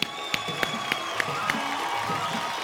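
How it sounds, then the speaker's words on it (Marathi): An audience at a Marathi lavani stage show applauds, a steady wash of crowd clapping with a few sharp, regularly spaced claps standing out near the front. "आपण सगळे मिळून एकदा जोरदार टाळ्या वाजवूया"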